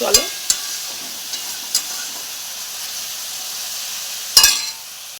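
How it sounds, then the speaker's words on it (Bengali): Continuous hissing sizzle of greens frying in a wok, punctuated by a few sharp metallic scrapes and clanks of a spatula. "শাক ভাজাতে একটু তেল বেশি করে দিয়ে ভাজলে ভালো লাগে"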